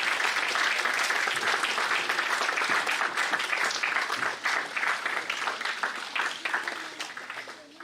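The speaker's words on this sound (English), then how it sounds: "Can we please have a big round of applause?" Sustained applause from a large audience at an international academic conference, loud and dense at first, then thinning and tapering off toward the end.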